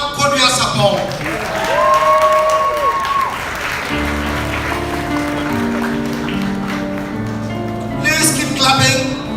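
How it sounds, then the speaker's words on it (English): Audience clapping at the graduation ceremony of the royal prince of Asanteman, a steady patter of many hands. It runs beneath tonal music and an amplified voice calling out over the crowd. "Clapping. Keep clapping."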